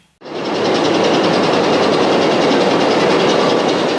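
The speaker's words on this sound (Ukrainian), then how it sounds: "Потяг Харків Ужгород о четвертій ранку прибув на залізничний вокзал." The Kharkiv–Uzhhorod passenger train arrives at a railway station, a steady loud rumble with rapid rhythmic wheel clatter that rises abruptly and holds without voices.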